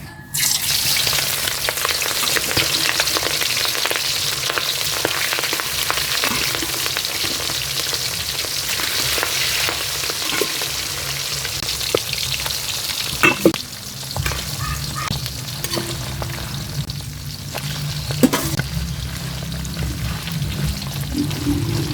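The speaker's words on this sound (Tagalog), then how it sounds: "kapag mainit na itong ating mantika ay ilalagay na nga natin itong ating tinimplang karne" Seasoned pork bones dropped into hot oil for adobong tuyo, a loud, dense frying hiss that fills the whole stretch, with a few occasional clatters and no voices.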